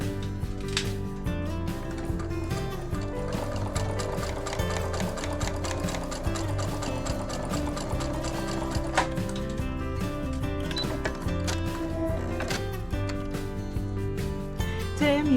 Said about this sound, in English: Today I'm using my Disney Brother machine.